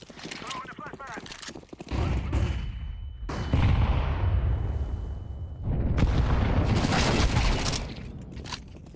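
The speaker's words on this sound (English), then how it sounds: "Throwing the flashbang." A flashbang grenade goes off in Counter-Strike 2, a sharp burst followed by a loud, sustained hiss and roar that rises again, close and dominant, with game sounds around it.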